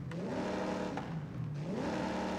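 A supercharged car engine in Forza Horizon 5 revs up and down in smooth rising and falling sweeps over a constant whirring drone, loud and close, with no talking.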